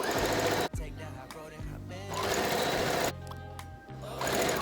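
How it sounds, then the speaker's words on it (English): Sewing machine stitching hemlines on a thrifted jacket, motor whirring in steady runs with brief pauses between bursts, close and fairly loud, no talk. "Next, sew these hemlines down."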